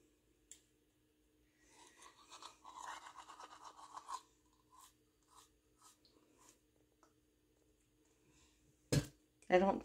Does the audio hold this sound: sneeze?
no